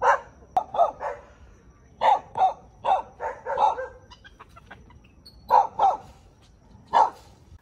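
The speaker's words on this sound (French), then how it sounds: "Ils bloquaient le passage et aboyaient sur le singe" Several dogs barking at a monkey in Brazil, loud close barks in irregular clusters of two or three with short gaps between bursts.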